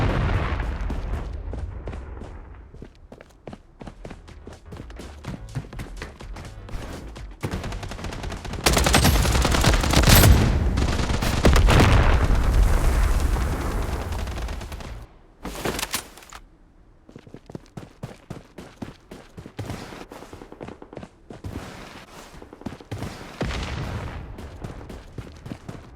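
Video game gunfire in Blood Strike: rapid automatic bursts and single shots, loud and close, with a dense heavy barrage in the middle and scattered shots toward the end.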